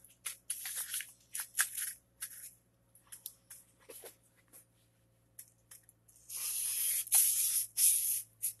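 A blade, such as a hook, knife or axe, is stroked across sandpaper in irregular short hissing scrapes, some strokes sharper than others, ending in a longer, louder run of strokes close by.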